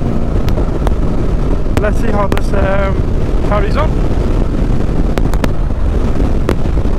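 Strong wind buffets the microphone with a constant low roar throughout a motorbike ride beside a river in Pakistan, while someone speaks briefly over it.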